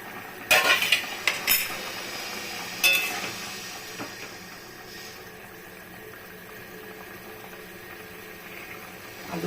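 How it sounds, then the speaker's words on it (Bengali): A metal lid clinks and scrapes as it is lifted off a pot of raw banana kofta curry on a gas flame, a few sharp clatters early on, then a quiet simmering hiss. "আমি ঢাকনাটা তুলে দেব"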